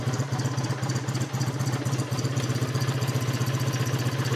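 A classic BSA motorcycle engine, a low-compression single like a Flash or A7, idles in a workshop with a steady, loud, even chugging pulse throughout and no voices.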